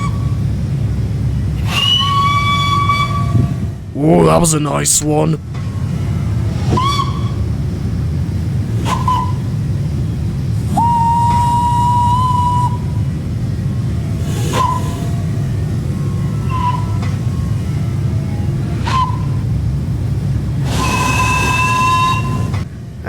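Steam whistle blasts from an LNER A3 Flying Scotsman locomotive in Train Simulator Classic, a series of short and longer shrill toots spaced irregularly over a steady running rumble, with a brief spoken remark near the start.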